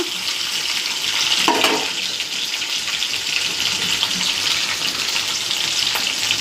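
A steady, loud frying hiss from ingredients in a pan for a tomato lentil-dumpling curry runs continuously throughout, with a brief stirring clatter early on and no talk.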